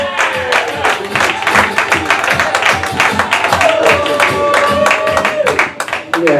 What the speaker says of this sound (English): Let's clap up for Jack McTooth